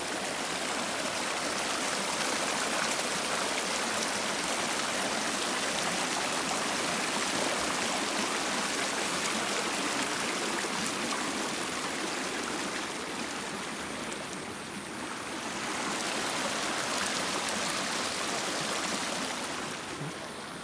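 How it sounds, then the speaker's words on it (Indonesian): A clear mountain river in the highlands near Cisentor rushes steadily and close by, its broad, unbroken flow filling the scene with constant hiss and gurgle and no voices. "Di sini juga ada sumber air melimpah di sungai yang cukup jernih."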